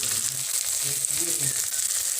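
Tomato with turmeric, red chilli powder and coriander powder frying in a pan for an Assamese chickpea dish, giving a steady close sizzle with a few soft lower stirring sounds and no talk.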